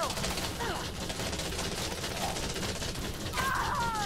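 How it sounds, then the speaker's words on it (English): Rapid bursts of spaceship gunfire in a space combat video game, fairly faint and mixed with whooshing effects, a few short volleys over several seconds. "don't you fire at my mate!"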